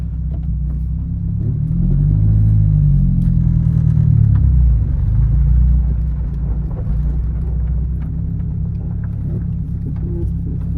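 Toyota AE86 with thrust washer problems, burning oil, driven down a road: a loud, close, low engine rumble that swells as it accelerates in the first seconds, then settles into a steady drone.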